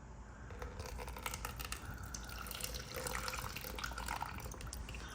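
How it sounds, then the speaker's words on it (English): Purple potion liquid pours out of a doll package with a continuous, hissing, splashy trickle throughout, fairly soft and unbroken, with faint rustling of packaging underneath. "Look at this purple liquid that's gonna pour out of here."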